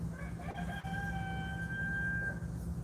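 A rooster crows once in a long, sustained, ringing call lasting about two seconds, heard over a steady low background rumble.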